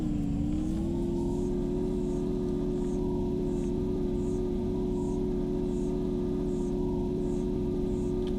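Bike engine in the Empyrion video game, a steady droning hum that rises briefly in pitch early on and then holds level throughout.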